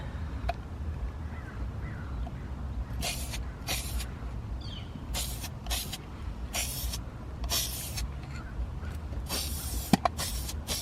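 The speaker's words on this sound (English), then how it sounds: "Oh my god, I'm about to get overspray on so many things." Short bursts of spray paint hissing from a can while coating a car's interior roll cage, several separate sprays of varying length over a low, steady background rumble.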